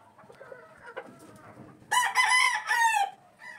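An ARL stag gamecock crows loudly twice in close succession, each call rising sharp and bright, after softer clucking and low murmurs from nearby fowl.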